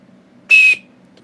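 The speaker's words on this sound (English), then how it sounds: "is that there's a whistle in the sheath." A single short, shrill blast of a cheap plastic whistle built into a knife sheath, lasting about a quarter second and heard alone over a quiet background hum.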